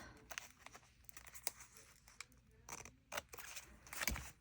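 Paper being trimmed for a handmade junk journal, with several scattered snips and rustles of paper, close and fairly quiet, a sharper cut near the end.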